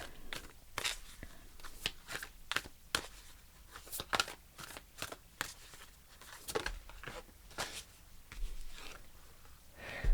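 Oracle cards shuffle and riffle in a series of quick papery flicks and snaps, close and soft, followed by light card-handling rustles.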